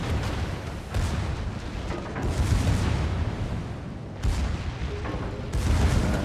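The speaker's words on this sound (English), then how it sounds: "Back guns got another shot here. Front did too." Heavy naval guns on a warship in a video game fire from the rear and front turrets, a series of deep booming blasts rolling one after another over a dense, rumbling background, loud and close with no talk.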